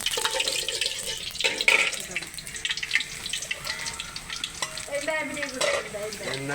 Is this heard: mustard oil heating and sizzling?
yes